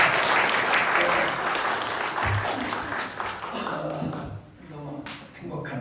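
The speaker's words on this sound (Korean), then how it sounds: "박수 한번 하십시오." A crowd at a church worship service claps enthusiastically, dense and sustained, easing briefly near the end before picking up again, with a voice faintly underneath.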